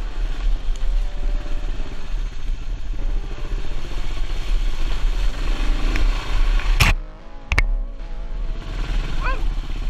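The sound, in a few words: Kawasaki KLR650 motorcycle riding a technical trail crossing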